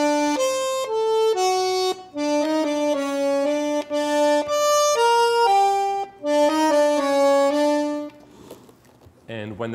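A tango plays legato on a keyboard, its melody notes flowing smoothly into one another in connected phrases, loud and close, then fading out toward the end.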